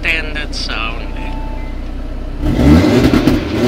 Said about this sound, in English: in the sport mode, I'm gonna show you what it sounds like with the exhaust valves on standard